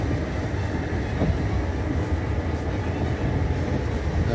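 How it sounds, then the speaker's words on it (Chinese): A blue-carriage passenger train departs on a 2020 round-island rail trip in Taiwan, giving a steady, loud rumble of rolling wheels and carriages that holds evenly throughout with no voices. "火车出发了，这就是访寮。"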